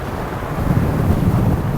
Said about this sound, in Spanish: Hay un viento huracanado que me está por llevar.